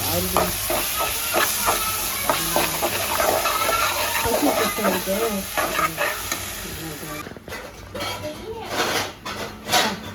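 Chili powder, salt, turmeric and tamarind sizzle and fry in a pan, with steady stirring scrapes running throughout and a voice talking over the cooking.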